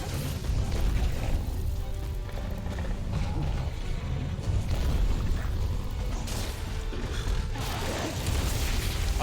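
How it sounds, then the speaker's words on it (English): A charged monster explosion in Monster Hunter World: Iceborne, a dense continuous roar of booming blasts and crashing game effects that stays loud throughout, with brighter bursts recurring near the end. "I like that explosion gets bigger as he gets more charged up."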